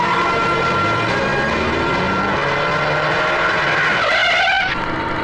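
Car moving off under a busy soundscape of engine and tyre noise, with a rising siren-like wail near the end, loud throughout in a Hindi-dubbed comedy action scene.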